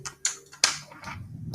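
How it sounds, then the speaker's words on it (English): A few sharp keystroke clicks on a keyboard, two prominent taps followed by softer rattling, close and fairly quiet with no talking. "let me type it out"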